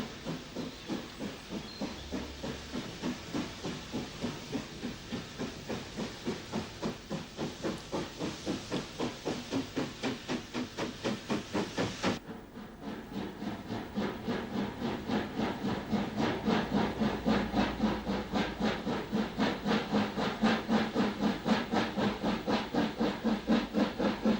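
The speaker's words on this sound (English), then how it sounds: "WT hauled trains depart from and arrive at Limavady Junction" A WT class steam locomotive hauls a train at Limavady Junction in Ulster, its rapid exhaust beats chuffing in a steady rhythm with hissing steam, close and continuous, briefly dipping midway before resuming stronger.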